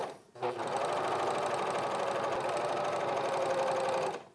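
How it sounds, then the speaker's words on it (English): A serger overlocker stitches hoodie pieces for a raincoat lining, running steadily at a continuous, fairly loud whir with a fast mechanical chatter after a brief start. "Serge all these hoodie bits as well."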